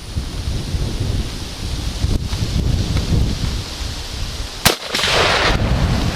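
Steady outdoor wind noise rushes across the microphone around a tree, with a continuous broadband roar, gusty swells and a brief sharp knock partway through, no talking.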